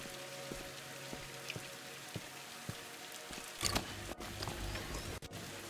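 Rain in the video game Viewfinder, a steady patter of drops with a few louder plinks, then a brief rustling burst and some thumps and clicks over the ongoing rainfall.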